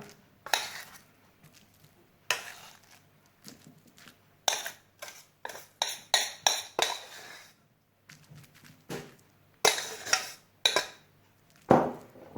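Cooked sushi rice being scraped out of a pot onto a plate, a series of short, sharp metallic scrapes and clinks of utensil against cookware in irregular bursts with quiet gaps between, close and dry.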